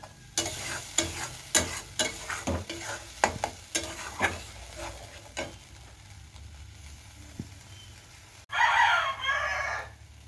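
Curd and cashew paste being sautéed for doi katla, with a spatula scraping and knocking the pan in a steady rhythm of close, sharp strokes, then a louder burst of sizzling near the end.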